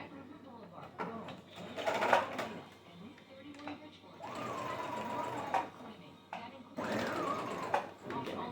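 A Brother CS6000i computerized sewing machine stitching in several bursts of rapid mechanical whirring and clatter, close and clear, with a person talking between and over the runs.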